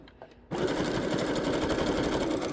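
A sewing machine starts up after a few faint clicks and runs steadily at speed, sewing a zigzag stitch on fabric; its dense mechanical whir is close, loud and continuous, with no talking.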